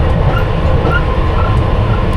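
A London Underground Piccadilly line train rumbles along the track as heard from the rear cab, a loud, steady low roar with a faint whine above it and no talking.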